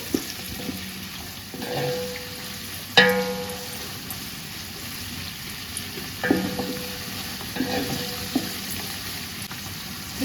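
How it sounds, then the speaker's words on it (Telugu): Onions frying in a pan for chicken dum biryani, a steady low sizzle with occasional stirring clatters and scrapes, recorded close with no talking. "ఆనియన్ అంత ఫ్రై అయింది"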